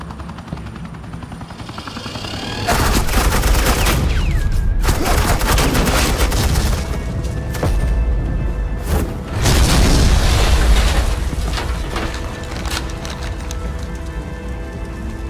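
Bursts of gunfire from Batman: The Enemy Within, with loud, dense stretches of shots and booms over a steady roar of helicopter-like rumble, rising and falling across the scene.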